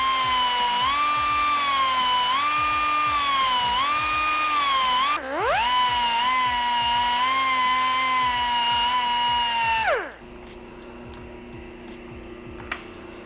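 A wide belt sander grinds steel bicycle frame dropouts during a Romax frame build: a loud, steady whining drone with slight pitch wobbles that dips once midway and then cuts off near the end, leaving quiet background.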